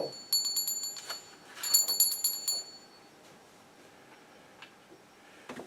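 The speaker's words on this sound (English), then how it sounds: "So this is my little bardic bell." A small handheld bardic bell rings in a few quick bright jingling bursts, clear and close, then fades into a quiet room tone with a couple of faint taps, no voices.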